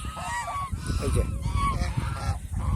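Male domestic geese honking in a group, repeated loud nasal calls overlapping close by, with someone speaking intermittently underneath.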